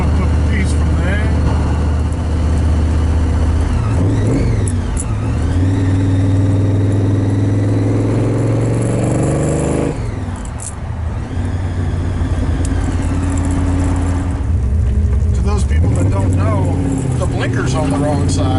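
A supercharged Ford XB Falcon Interceptor, the Mad Max Pursuit Special, heard from inside on a ride-along, with loud engine rumble and a rising and falling blower whine as it revs and shifts, while people talk over it.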